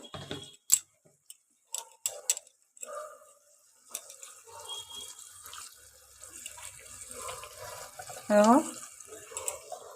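A mixer grinder bowl is rinsed with water at a kitchen sink, giving intermittent splashing and clinks, a short pouring burst near the end, and soft background sounds with no speech.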